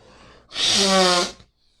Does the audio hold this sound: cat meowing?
no